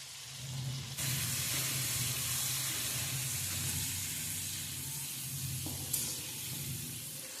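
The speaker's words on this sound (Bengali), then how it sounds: "আলুগুলো ভাজা হয়ে গেছে" Potatoes seasoned with turmeric and salt fry in oil in a pan, giving a steady, even sizzling hiss that holds throughout without talk.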